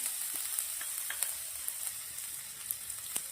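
Mustard seeds, fenugreek, cumin, asafoetida and spices sizzling in hot oil, a steady close crackle and hiss with scattered sharp pops throughout.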